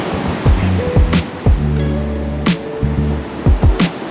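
Sea waves surging against a rocky shore formation after a typhoon, a steady loud wash of surf with repeated crashes swelling through, close by and without talk.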